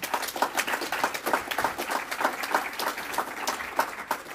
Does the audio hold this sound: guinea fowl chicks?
no